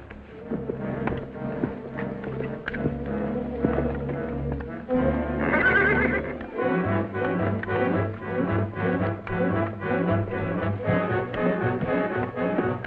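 A bucking horse ridden by a cowboy whinnies and neighs loudly up close, with a long drawn-out neigh in the middle and a steady clip-clop of hooves throughout.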